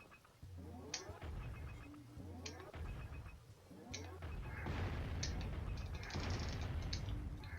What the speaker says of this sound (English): This is one of two cannons in the game.